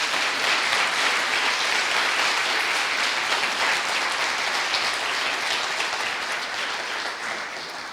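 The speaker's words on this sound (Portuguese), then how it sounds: "Quem concorda, aplauda o nome de Jesus." Sustained, loud applause from a church congregation during a sermon, dense clapping that holds steady for several seconds and eases slightly at the end.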